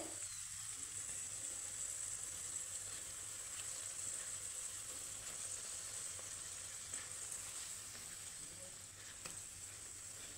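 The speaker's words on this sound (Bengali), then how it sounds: "এই দেখো একদম লো ফ্লেমে ভাজছি কিন্তু আমি" Cauliflower kachori deep-frying in oil over a low flame, a steady close sizzle and bubbling that continues evenly throughout with no talking.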